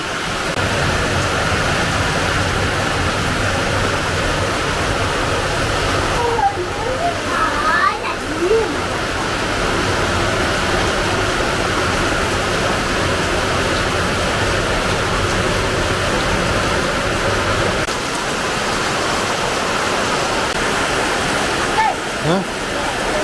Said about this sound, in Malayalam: മഴ പിന്നെയും വന്നല്ലോ കുറഞ്ഞതായിരുന്നു വീണ്ടും മഴ